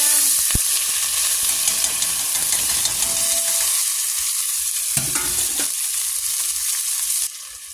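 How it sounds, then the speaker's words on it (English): Rice frying in hot oil in a pan for Spanish rice over medium heat, a steady bright sizzle with stirring scrapes throughout, one brief louder clatter near the middle, dropping quieter just before the end. "now I'm going to add the rice to my pan"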